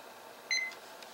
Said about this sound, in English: I'm going to go ahead and stop the timer.